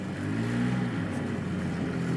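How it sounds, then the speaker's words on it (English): Steady droning engine of a repaired off-road buggy held at revs during a test ride, a continuous buzzing mid-pitched rumble with constant loudness and no voices. "This is Andrea's first test ride since we got the buggy put together."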